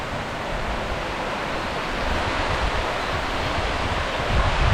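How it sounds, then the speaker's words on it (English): Heavy rain pours down steadily during a thunderstorm, a dense, continuous hiss that swells slightly louder toward the end, with no talking over it. "You see the rain, guys?"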